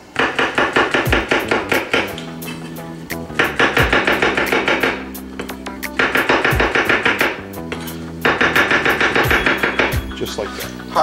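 A knife chops mushrooms on a cutting board, fast rhythmic bursts of sharp knocks coming in several runs over steady background music.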